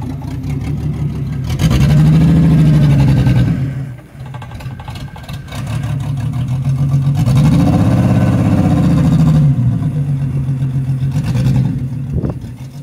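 A Jeep XJ Cherokee pulling away to park, its mid-pitched engine droning close by, rising twice in revving surges with a brief drop between them and no voices.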